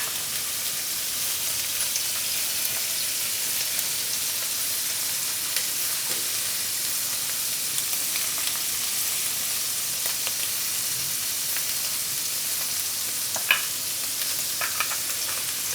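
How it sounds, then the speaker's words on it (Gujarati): Paneer frying in a pan, a steady soft sizzle and crackle with occasional brief pops and clicks, no talking. "એક બાજુ શેકાય પછી બીજી બાજુ ફેરવી લઈશું."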